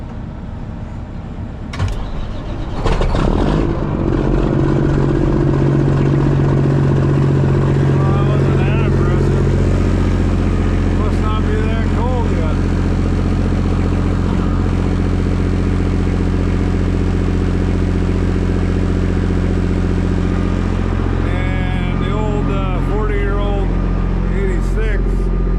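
A Case IH AF10 combine engine cold-starts in frozen weather, cranking briefly before catching and settling into a loud, steady, deep rumble that runs on at length, with voices audible at moments.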